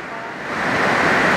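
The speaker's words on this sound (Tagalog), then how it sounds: "Kaso hindi ako makababa sa sobrang lakas ng ulan." Heavy rain pours down near a bus stop and roadway, a loud, steady broadband hiss that swells slightly over the short stretch, with no voice heard over it.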